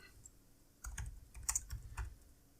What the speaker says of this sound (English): Please forgive my typing.